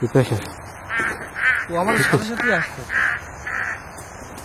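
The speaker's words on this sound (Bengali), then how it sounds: "কাক ডাকতেছে এই গভীর রাতে" A crow gives about six loud, evenly spaced caws late at night in an open rural spot. A voice speaks over the first calls, close and clear.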